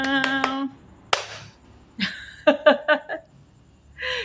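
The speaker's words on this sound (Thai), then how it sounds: "ยังคงคอนเซปต์เดิมกับการปรบมือ ดังๆนะจ๊ะ" Several loud hand claps ring out alone, a sharp single clap followed by a quick cluster of four claps, with brief bursts of speech before and after.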